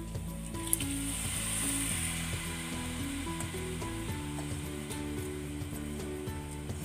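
Washed rice and mung dal tipped into a pan of fried spices for Bengali vegetable khichuri, with close, steady sizzling and rattling, clicking grain noises throughout.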